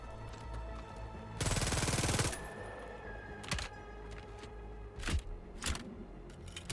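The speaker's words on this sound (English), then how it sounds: "this is your fastest one, which shoots very fast and makes a really cool sound" A rapid-fire weapon in Helldivers II lets off a dense one-second burst, then separate sharp single shots and metallic clacks follow over a low game background hum, with no talking.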